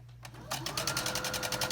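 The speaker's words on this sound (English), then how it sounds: "I'll sew on this side again." Sewing machine stitching fabric while piecing a quilt heart block, running in a steady rapid mechanical patter that starts after a brief quiet moment and continues close and clear.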